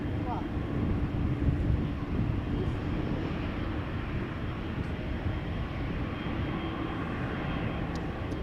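KLM airliner on departure from Amsterdam Schiphol Airport, a steady loud jet engine roar mixed with wind buffeting on the microphone, continuous throughout.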